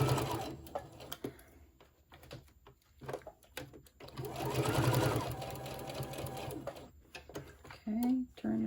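A sewing machine stitches across the bottom of a crossbody cell phone pouch in short bursts of quick needle clatter, mixed with clicks and handling noises. Someone talks nearby.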